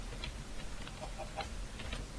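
Chicken clucking in Minecraft, a string of short, soft clucks repeating at an uneven pace over a faint background hum, with no talk over them.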